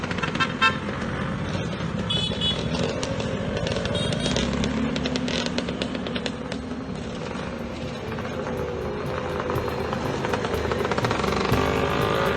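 Scooter ridden along a tree-lined driveway toward Dunrobin Castle in Scotland, its engine droning steadily with constant wind rush and road noise and no break in the sound.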